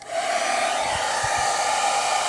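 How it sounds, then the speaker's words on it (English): A hair dryer blows steadily and loudly from start to finish, used to warm material before cutting it, with a constant airy whoosh and a steady whine and a few faint low bumps partway through. "I'm just gonna use this hairdryer"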